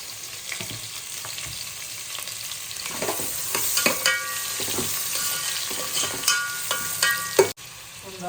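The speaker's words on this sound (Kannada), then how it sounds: "ಈರುಳ್ಳಿ ಬೇಯಿಸಿ ಈರುಳ್ಳಿ ನೋಡಿ ಆಗಿದೆ" Medium-sized onions fry in a pan for chicken curry, giving a continuous sizzle with scattered crackles and stirring scrapes, close and steady.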